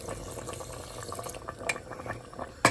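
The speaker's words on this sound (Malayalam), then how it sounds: "ഇനി കുറച്ച് ചൂടുവെള്ളം ഒഴിച്ചാലോ?" Hot water splashes and gurgles as it is poured into a pressure cooker of mutton biryani, a brief bubbling stream ending with a sharp clink.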